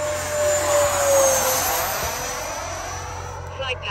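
Freewing F-22 90mm EDF RC jet making a performance pass, its broad ducted-fan whoosh and whine swelling near and loud, then easing as it pulls away, with a steady tone running underneath.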